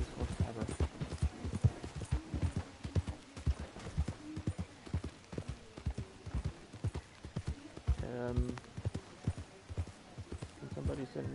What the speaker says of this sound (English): My horse is the greatest horse ever.